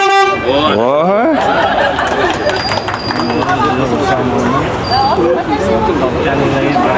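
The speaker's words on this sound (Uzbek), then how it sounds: "Signal, pap qo'y." A loud car horn sounds close by in a long, wavering blast at the start, followed by a busy hubbub of voices and chatter.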